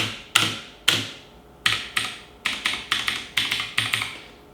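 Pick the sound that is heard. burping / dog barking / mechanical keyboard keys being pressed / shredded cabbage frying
mechanical keyboard keys being pressed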